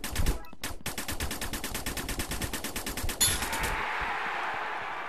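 Rapid automatic gunfire from the Snapshot VR video game in a 1v1 match, a steady burst of evenly spaced shots for about three seconds, then a brief sharper blast and a fading hiss.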